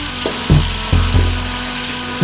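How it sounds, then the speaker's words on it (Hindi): Onions frying in a pan for a chana and moong dal, a loud steady sizzle with occasional clattering stirring knocks. "लाइट ब्राउन होने तक हमें इसी तरीके से प्याज जो है फ्राई करने हैं"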